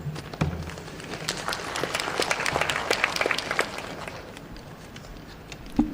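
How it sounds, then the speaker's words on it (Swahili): Audience applause for panelists at the close of a government e-governance working session, a dense spread of claps rising to a peak mid-way, then thinning out, with a few scattered claps and brief voice sounds at the end. "Naomba tuwapongeze kwa makofi matatu"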